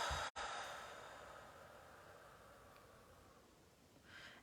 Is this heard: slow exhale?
yes